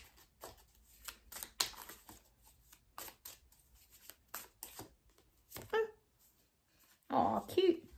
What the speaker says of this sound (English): I'll shuffle them a bit more.